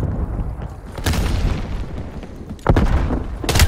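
Grenade blasts in Black Ops Cold War multiplayer: heavy booms with broad bursts of noise, one near the start, a louder one later and a final sharp blast, over a low rumbling background.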